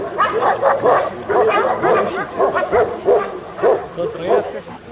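A Bucovina shepherd dog barks in quick repeated bursts, some yipping and whimpering, loud and close, with people talking over it.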